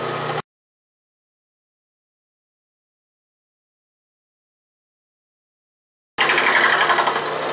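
An Atlas lathe fitted with a milling attachment runs a cutter through steel at 700 RPM, a loud, harsh grinding heard in two brief bursts separated by a long silent gap.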